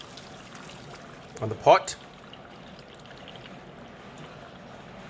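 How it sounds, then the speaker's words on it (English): Hot water poured out of a pot after boiling pork, a short splashing gush lasting about half a second near the middle, heard under a person talking. "After boiling for 10 minutes, pour away the hot water"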